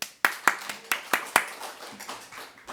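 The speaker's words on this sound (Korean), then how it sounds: "다시 한번 박수" A small audience at a church theology lecture claps in a short burst of about six or seven sharp, distinct hand claps, close and uneven, then trailing off.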